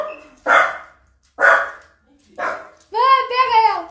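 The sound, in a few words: dog barking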